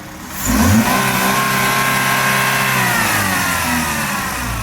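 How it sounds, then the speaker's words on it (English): A 2.4 Ecotec engine in a Chevrolet Malibu, the water pump replaced and the serpentine belt removed, revs up sharply from idle and holds a loud, steady high-rpm drone nearby. "give it a rev"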